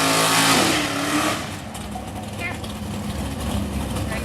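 A 1970 Chevy Nova and a 1979 Ford Mustang at a drag racing event, loud engine roar up close that settles into a steady idling rumble, with an announcer talking over it.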